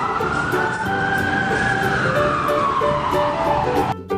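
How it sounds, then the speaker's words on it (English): A police car siren wails loudly and continuously at close range, its tone sweeping in a long rising and falling glide that fills the whole stretch before cutting off abruptly near the end. "Police car."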